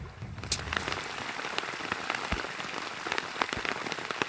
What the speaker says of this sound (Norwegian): Det hagler, isklumper.